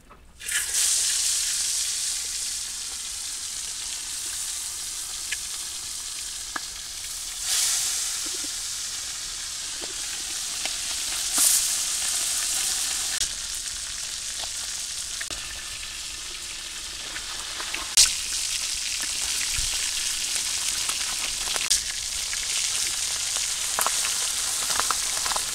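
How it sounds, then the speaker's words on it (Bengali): Fish frying in hot oil in a wok sizzles steadily for the whole stretch, a close, loud, crackling hiss with small pops and stirring bursts, and no talk. "কড়াই তেল গরম হয়ে গেছে, মাছ দিয়ে দেই।"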